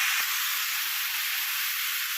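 A paste of tomato, coriander leaves and green chili sizzles in a hot pan, giving a loud, steady hiss with a brief spit near the start.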